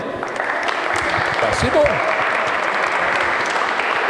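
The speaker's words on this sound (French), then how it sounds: "Mesdames, messieurs, on peut entendre un tonnerre d'applaudissements, s'il vous plaît." Thunderous applause from the audience at the launch of the Vendée Téléthon, a dense, continuous roar of clapping with a brief spoken remark rising over it midway.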